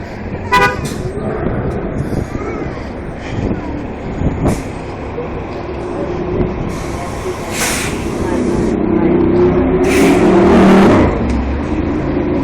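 Busy street traffic on Utica Avenue at Winthrop Street in Brooklyn on a summer evening: cars and trucks rolling past, an air brake hissing, short horn toots, and a louder passing vehicle swelling near the end, with people talking nearby.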